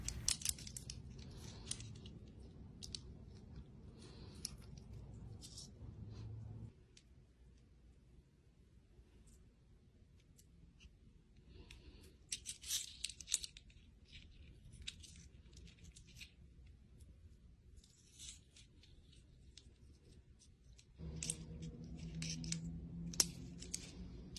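Small hard porcelain beads on statement necklaces clink and rattle together in quiet bursts, light ceramic clicks coming and going against near silence.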